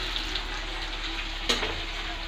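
Chopped onion and ginger sizzle steadily in a hot pan while being stirred gently, a close, even frying hiss with a brief scrape of the spoon midway.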